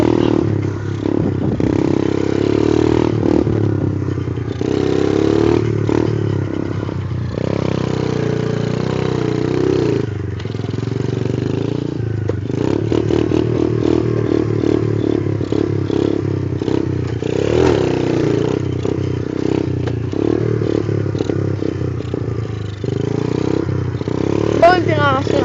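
A motorcycle revs and idles as the rider pulls a wheelie while sitting on the tail, the engine rising and falling close by with mechanical clatter and a voice talking over it.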